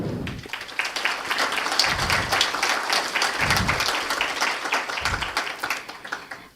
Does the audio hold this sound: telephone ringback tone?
no